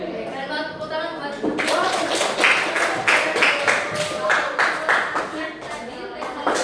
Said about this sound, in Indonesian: Keren banget, tepuk tangan buat